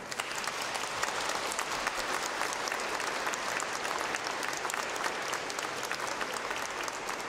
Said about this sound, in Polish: a wy siebie nawzajem pozdrówcie gorącymi oklaskami.